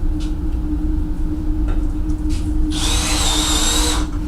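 In a robotics workshop, a power drill bites into material with a loud high-pitched whine for about a second and a half, over a constant low mechanical hum.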